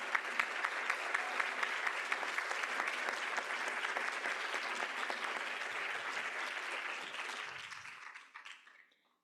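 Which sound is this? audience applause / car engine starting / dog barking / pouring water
audience applause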